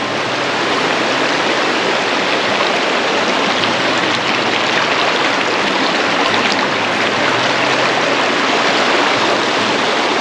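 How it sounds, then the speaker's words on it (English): River water rushing over a small dam at the source of a river in Smoky Mountain National Park, a loud, steady broadband roar with no pauses and no talk. "So this is the actual river."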